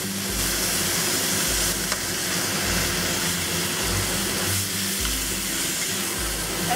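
Beef steak, mushrooms, onion, black pepper and vinegar are tossed together in a hot pan. A steady, loud sizzle is broken by regular low swooshing pulses from the tossing.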